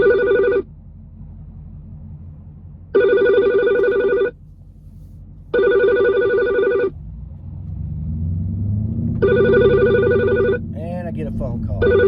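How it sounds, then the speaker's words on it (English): A telephone rings in four regular bursts, loud and close, inside a moving car with steady engine and road rumble beneath; after the last ring a brief voice is heard. "And I get a phone call."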